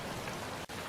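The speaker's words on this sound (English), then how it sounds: "Oh yeah, great, it's raining." Steady rain from the video game Gothic 2 hisses across the whole spectrum as a dense, continuous wash, with one very brief dropout near the end.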